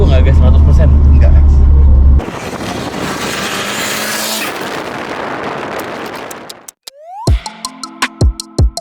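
A Mitsubishi Lancer CK4 car accelerates with a loud, close engine roar that swells and then cuts off, followed by a few sharp bumps and knocks near the end.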